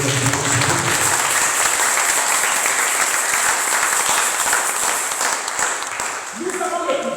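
Sustained applause and cheering from a church congregation at a Sunday worship service, dense and steady throughout, with voices mixed into the clapping.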